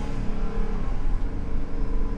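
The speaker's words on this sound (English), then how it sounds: "But I'm gonna give this a little bit of gas." A 2021 Coachmen Cross Trek 21XG Class B+ motorhome accelerating on a test drive, its engine producing a steady, full rumble and whir that holds loud and close throughout.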